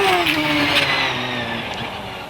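A hillclimb race car at Loton Park powers hard out of a corner onto Cedar Straight, its engine a loud, close, sustained roar that climbs steadily in pitch as it accelerates, with no voices over it.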